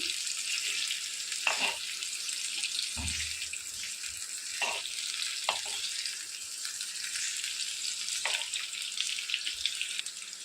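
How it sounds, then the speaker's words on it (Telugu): Stuffed bitter gourds with a peanut masala sizzle steadily as they fry in a pan, a continuous close hiss broken by a few soft knocks and stirring clicks, with no talking. "సో ఇలా అన్నీ కూడా మంచి కలర్ వచ్చేంత వరకు వీటిని ఫ్రై చేసుకోవాలి"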